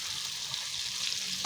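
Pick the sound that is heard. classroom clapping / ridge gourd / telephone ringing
ridge gourd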